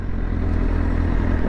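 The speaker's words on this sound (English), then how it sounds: "Even though it's a stock exhaust, the echo" Motorcycle with stock exhaust rumbling loud and close on a downtown Charlotte street, a steady thumping beat echoing off the buildings for a brief stretch.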